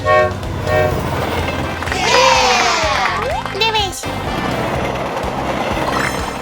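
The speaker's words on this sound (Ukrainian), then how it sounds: "Потяг!" A train rolls by at a zoo park in Abu Dhabi with a rising and falling horn toot in the middle, while someone speaks excitedly over it.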